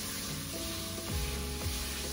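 Butter sizzles and crackles in a hot pot on the stove, a steady close frying hiss with a few soft stirring scrapes, no voices.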